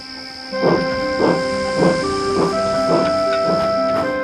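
Thomas the steam engine rolls into the harbor with a constant steam hiss and tonal whine, joined by a series of evenly spaced chuffs that grow stronger and then keep a steady rhythm.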